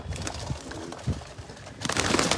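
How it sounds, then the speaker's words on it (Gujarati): Pigeons, including fancy red birds, cooing close by in a few soft low bursts over steady background noise, with no talking. "ઘણા બધા કબૂતર લઈ આવ્યા છીએ આપણે."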